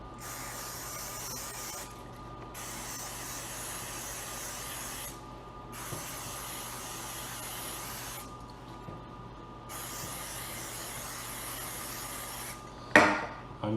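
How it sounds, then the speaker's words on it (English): Olive oil sprayed over two large eggplants for roasted eggplant soup: several long, steady hissing bursts of a hand pump sprayer, each a few seconds, separated by short pauses, close and fairly loud, with a sharper clatter near the end. "Then I'm going to spray them with a little olive oil."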